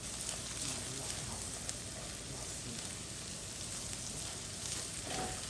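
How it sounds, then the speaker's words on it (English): Lobster pieces pan-fry over low heat, giving a soft, continuous sizzle and crackle like light rain, with a few faint stirring scrapes near the end. "we are frying, but like a low temperature frying, not deep frying"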